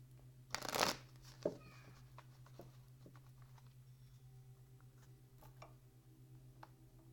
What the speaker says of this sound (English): Shuffle 2 more times,